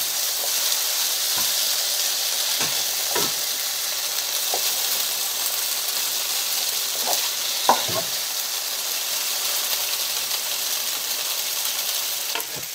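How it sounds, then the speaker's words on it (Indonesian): Potato gnocchi being stirred in a pan with chicken stock, a steady loud sizzle and hiss throughout with scattered scraping taps of the spoon against the pan, close and continuous with no talk. "Kita aduk rata."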